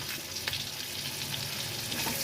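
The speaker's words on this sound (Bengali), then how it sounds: "এবার আমি একটা পেঁয়াজ, দুটো কাঁচা লঙ্কা কুচি দিয়ে দিলাম" Onion and chopped green chilli hiss and sizzle steadily in hot oil alongside pieces of fried pointed gourd, a continuous close frying crackle throughout with no voices.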